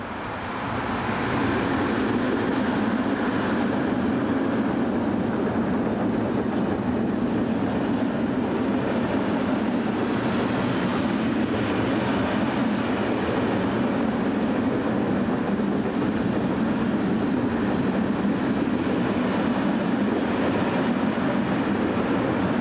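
Slovak diesel locomotive 752069 hauls a freight train past in a continuous loud, broadband rumble with steady engine drone and rolling wagon noise lasting throughout, with no talking.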